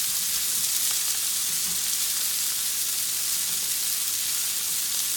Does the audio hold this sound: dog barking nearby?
no